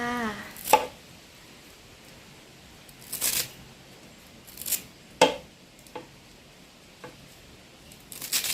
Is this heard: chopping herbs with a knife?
yes